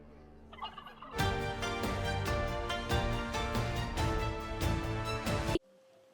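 Hens cluck in a loud, close flurry of rapid, harsh calls that runs for several seconds and then stops abruptly. Fainter bird sounds come before and after it.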